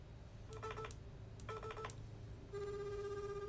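Phone tones from an outgoing call: two short bursts of beeping dial tones, then a steady ringback tone, with a low hum underneath.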